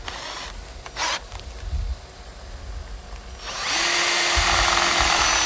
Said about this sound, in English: And pre-drilling your holes makes life a lot easier.